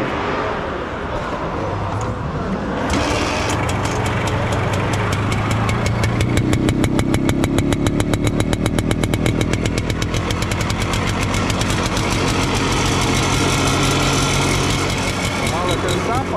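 A WSK motorcycle at a car bazaar fires up after a few seconds and settles into a steady, loud two-stroke idle with an even pulsing beat, while people talk nearby.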